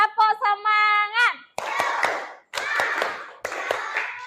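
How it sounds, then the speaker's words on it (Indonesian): A school class performs a rhythmic spirit clap: after a short stretch of sung or chanted voices, three bursts of group clapping follow, each opening with sharp unison claps then fading, mixed with children's shouting. "ayo kita melakukan tepuk semangat seperti kemarin"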